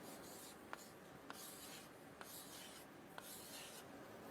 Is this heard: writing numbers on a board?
yes